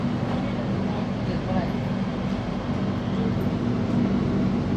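A KTM train in Malaysia pulls out and runs along the line, giving a steady, loud, continuous rumble with a low droning hum throughout while a person talks over it.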